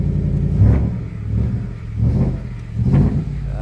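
A Ford F150 Tonka with a 5.0 engine, which has a faulty starter motor, revs up three times in slow succession, each deep rumbling burst rising and falling, heard fairly close with no talking.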